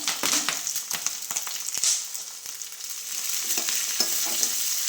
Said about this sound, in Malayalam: സവാള, പച്ചമുളക് നുറുക്കിയിട്ട് ഇട്ട് കൊടുക്കാം.